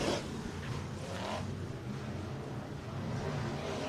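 Race cars on the Sunset Speedway Park oval in Banks, Oregon, their engines droning steadily at a distance as the pack powers through a turn, a continuous broad roar without clear individual pass-bys.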